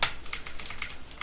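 Rapid clicking of fingers typing on a computer keyboard, recorded away from home, with the keys tapping in a quick, uneven rhythm close to the microphone and no voices.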